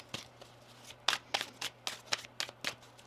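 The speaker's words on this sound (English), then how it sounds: "One more shuffle here." Tarot cards are shuffled in a quick series of crisp riffling bursts, close and fairly quiet, with brief pauses between them.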